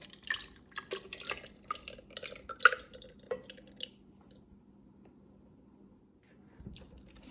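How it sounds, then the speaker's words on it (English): Thick sea moss gel pours and drips into an Instant Pot blender jar, giving soft wet squishy splats and drips in a close, quiet kitchen, busier at first and then tapering off. "I'm going to be pouring the Seamoss."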